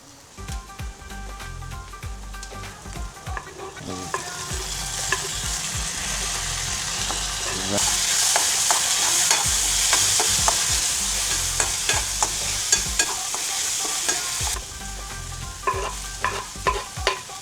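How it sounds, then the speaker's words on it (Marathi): Tomatoes and capsicum sizzle and crackle in a hot pan for dhaba-style bhurji as they are stirred. The frying swells louder through the middle, then eases back, with scraping and clatter from the stirring and no speech. "टमाटा आणि शिमला मिरच टाकलेली आहे आणि टमाटा असा तडफड तडफड करतोय"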